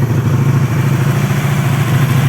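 A 1985 Honda Magna VF500C V30 motorcycle engine runs after carburetor work, with a loud, steady, close idle that throbs evenly throughout.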